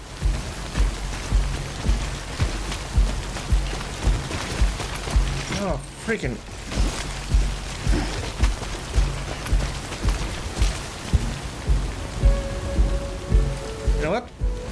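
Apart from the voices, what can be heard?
rain in video game Death Stranding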